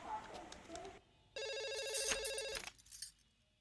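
A telephone rings with an electronic warbling tone for just over a second, loud and close, after a short stretch of background sound and before fading into quiet rustle.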